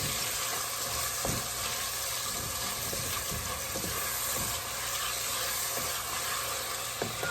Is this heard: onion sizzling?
yes